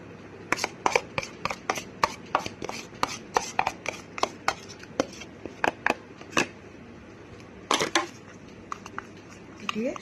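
Tomato pulp being stirred and mixed with rose water for a homemade face pack, making a series of sharp, close tapping and scraping clicks in an irregular rhythm, with no talking.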